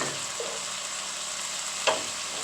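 Onions and garlic go into a pan of sofrito and recaito for Puerto Rican rice with pigeon peas, giving a faint, quiet sizzle and a single soft scrape or clatter partway through.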